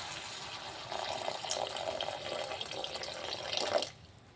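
Water pours steadily into a pan of cluster bean and tomato curry for a few seconds, then stops abruptly. The pour is close and clear, with no talking.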